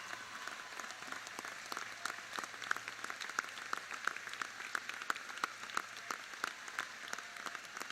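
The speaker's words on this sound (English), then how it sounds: "Students, let's give a round of applause to those who have been behind you along the way." High school graduation ceremony audience applauding steadily, a soft, distant wash of many hands clapping throughout with sharper individual claps poking through.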